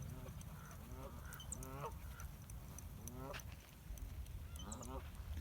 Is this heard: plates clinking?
no